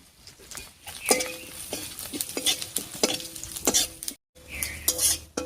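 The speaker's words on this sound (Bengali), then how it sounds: "ফোড়নটা কয়েক সেকেন্ড ভাজা হয়ে গেছে" Bay leaf, dried red chilli, whole garam masala and cumin frying in hot oil as a Bengali tempering, a steady sizzle broken by repeated scraping stirs of a metal spatula, with a brief drop to silence near the end.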